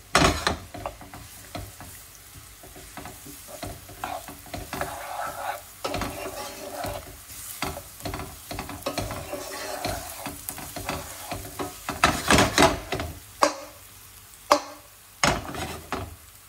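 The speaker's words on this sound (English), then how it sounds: "It's hot. Put in the onion and celery." Chopped onion and celery sauté in a hot pan for seafood risotto, a moderate sizzle broken by frequent scraping, clattering stirs and utensil knocks, busiest near the end.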